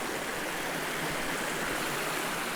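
A small creek by Lake Navarino flows in a steady, dense rush of water, loud and close, with no voices.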